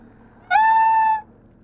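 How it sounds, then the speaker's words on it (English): A single clear cat meow from the video game Planet of Lana, one sustained tonal cry of under a second standing alone over a quiet background. "It made cat noises."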